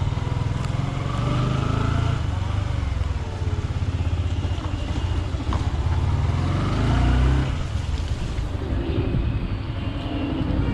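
Motorcycle setting off on a ride in rainy, filthy weather, with a steady engine drone and wind rush filling the whole stretch, pitch rising and falling as it gets under way, close and loud.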